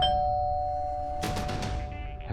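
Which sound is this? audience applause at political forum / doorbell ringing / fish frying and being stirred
doorbell ringing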